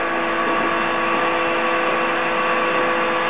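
A Minipack MVS 31 vacuum chamber sealer runs with its lid shut, drawing air out in a steady, even electric hum with no variation or talk.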